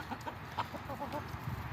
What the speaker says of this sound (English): Got the birds out here, got them fed, letting them graze a little bit.